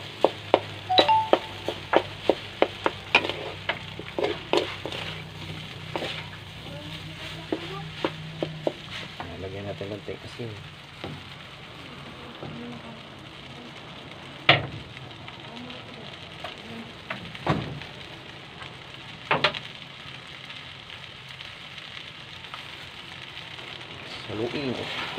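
Food frying in a pan on a home stove while being stirred, a steady sizzle broken by repeated scraping and clinking of the utensil, loudest early on, with faint voices in the background.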